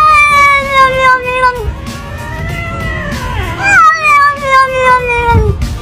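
A cat gives long, drawn-out meows, rising and falling in pitch, one after another and loud and close, with a voice mixed in.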